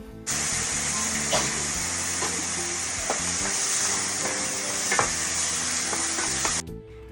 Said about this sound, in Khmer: ខ្ញុំចាក់ប្រេងឆាចូលមករួចហើយដាក់ខ្ទឹមនិងម្ទេស